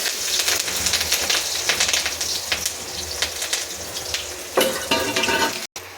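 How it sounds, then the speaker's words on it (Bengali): A steady crackling sizzle of garlic frying in hot mustard oil, with occasional louder spits and bursts of bubbling. "রসুনগুলো ভাজা হয়ে গেছে"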